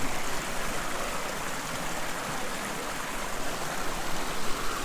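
A waterfall at Khlong Phlu on Koh Chang pours continuously, its broad rushing hiss steady and close with no pauses or other sounds standing out.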